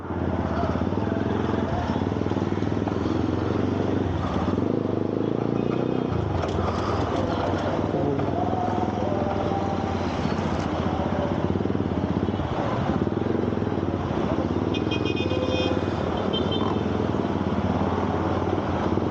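A motorcycle rides through slow city traffic, its engine a constant close drone with shifting revs and a brief change in pitch, while someone speaks intermittently over it.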